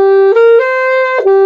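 A bright, reedy saxophone tone held and shifting between two pitches a minor third apart a few times, the notes sounding clear and close with no talking.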